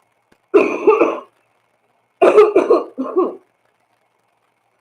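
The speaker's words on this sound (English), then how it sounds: "I caught a cough while I was there." One person coughs in short, harsh bursts: a single fit near the start, then a longer double bout after a pause, all close and clear in an otherwise quiet room.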